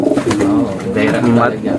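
Pigeons coo in low, rolling calls close by, mixed with people talking over them.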